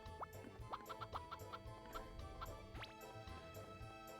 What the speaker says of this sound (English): Gotta feed our chickens.